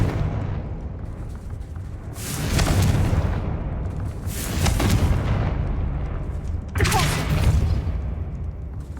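Confringo blasting spell explosions in Hogwarts Legacy, three loud booming bursts spaced a couple of seconds apart, each with a roaring crackle that fades into low rumble.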